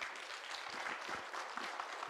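Steady applause from a lecture audience in Suncheon, faint and fairly even for about two seconds, with no voices over it.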